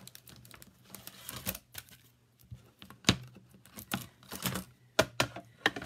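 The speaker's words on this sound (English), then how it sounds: "Let me bring my little machine over and cut this." A small paper cutting machine cuts card for a handmade Easter card, giving close, irregular mechanical clicks and crisp crinkling snaps in quick bursts, with no voices.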